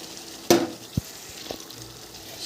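Poppy seed paste added to fried spices in a pan, a sharp burst of sizzle followed by a couple of soft knocks and a quiet, lingering fry.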